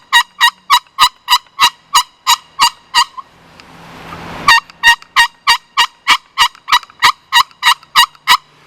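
A Lil' Sly Hybrid box-and-slate style turkey call worked by hand gives loud, evenly spaced hen yelps in a steady rhythmic run, broken by a brief scraping pause before the yelping resumes.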